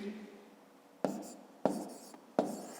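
A pen or pencil writes numbers for long division on paper, with three short distinct scratchy strokes spaced about half a second apart, faint and close, after a quiet stretch.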